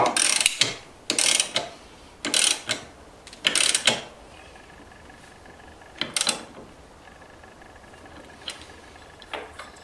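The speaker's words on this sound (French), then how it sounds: "Vous pouvez ensuite serrer votre écrou de variateur." Ratchet wrench tightening the variator nut on a scooter such as a Yamaha Aerox, Nitro or Ovetto, in several loud bursts of rapid clicking over the first four seconds, then two more short runs and faint clicks near the end.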